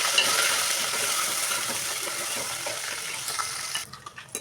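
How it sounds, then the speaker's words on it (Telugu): Washed small nettalu fish fry in hot oil with a dense, steady close sizzle that fades slightly toward the end, where a few light clicks of stirring break through. "ఇప్పుడు ఆయిల్ హీట్ అయినాక అందులో ఇప్పుడు బాగా కడిగి శుభ్రం చేసి పెట్టుకున్న నెత్తలు వేయించుకోవాలి."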